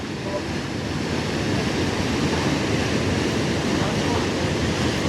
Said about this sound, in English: That is an amazingly intense waterfall coming down there.